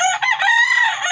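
A gamecock rooster crows once, loud and close, a short strained cock-a-doodle call standing alone.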